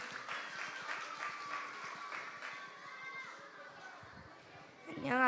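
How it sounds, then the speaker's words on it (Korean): Applause and cheering from a children's church gathering during a prayer-meeting testimony night, a steady crowd clatter mixed with chatter and children's voices, swelling near the end. "박수."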